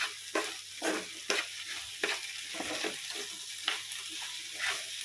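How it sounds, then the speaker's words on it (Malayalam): Rice for ghee rice frying over a high flame, a steady sizzle broken by repeated scraping stirs of the spoon roughly every second, close and clear with no talking. "അതുകൊണ്ടാണ് നല്ല തീയിലിട്ട് വറുത്തത്"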